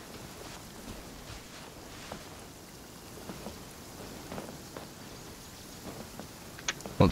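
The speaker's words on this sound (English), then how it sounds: "they went hiding because it's raining" Rain falls steadily in the video game Genshin Impact, a soft continuous hiss with scattered faint drop ticks throughout and no voices.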